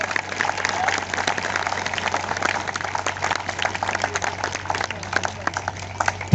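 Applause from an audience welcoming Shivram Kandu from Nepal at a motivational business seminar, a steady dense patter of clapping that runs the whole time, with some speech faintly mixed in.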